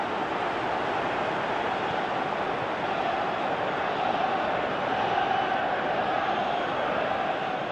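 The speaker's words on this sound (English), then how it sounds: "Crowd calling for him to shoot." A stadium crowd in the PES 2018 football video game roars in a steady, broad wash of noise calling for a shot, sustained throughout without breaks and with no distinct voices standing out.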